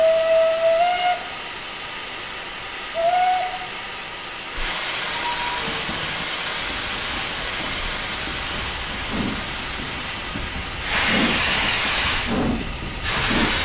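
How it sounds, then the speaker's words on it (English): Steam locomotive whistle from the Highland Railway 'Jones Goods' in Train Simulator 2020: two short toots, then a long stretch of loud steam hiss with bursts of venting, with no talking. "We'll have a listen to the Jones Goods and it whistles and it chuffs."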